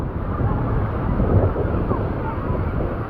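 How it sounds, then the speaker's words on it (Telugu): Sea waves wash onto a beach in a steady, continuous roar with wind buffeting the microphone throughout. "ఎంత బాగుంటుంది అక్కడ సముద్రం"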